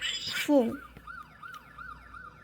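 A short burst of electronic noise gives way to a Tobot C police-car transforming toy robot's siren wailing in quick repeating up-and-down sweeps, thin and tinny.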